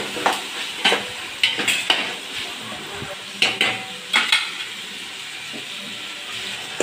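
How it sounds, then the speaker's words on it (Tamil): Tomatoes and green chillies sauté in a pan for a Tamil chicken kulambu, with a steady soft sizzle broken by repeated sharp scrapes and clacks of a spoon stirring against the pan, close and clear with no talking. "தக்காளி பழமும் பச்சை மிளகாவும் சேர்த்து நல்லா வதக்கிக்கலாம்"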